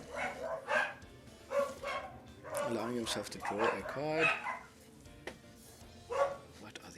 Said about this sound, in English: What are these dogs barking at?